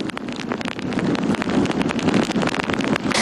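Strong typhoon wind gusts roar and buffet the microphone continuously during heavy rain near the sea in Santa Ana, a dense rushing noise with no voices.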